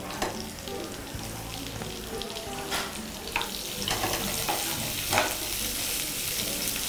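Onions frying in a pan for Karnataka prawn fry give a steady, close sizzle with a few stirring scrapes and crackling bursts throughout, and no one talks over it.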